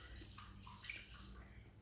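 Rice is swished by hand in a pot of water, producing faint sloshing and watery churning that stays quiet and continuous.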